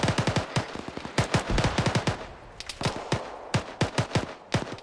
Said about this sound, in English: Got definite tracer fire coming in from the south.